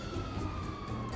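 A police siren in the GTA 5 Online video game holds a steady, slowly sliding wail for the whole moment, mixed in with dense game noise and low rumble.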